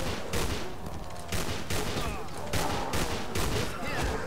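Rapid bursts of gunfire from the shooter game The Haunted: Hells Reach, loud, repeated volleys at roughly half-second intervals across the whole stretch, with dense game noise underneath.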